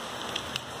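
Rain falls in a soft, continuous patter, with a couple of distinct drop ticks in a brief, quiet moment.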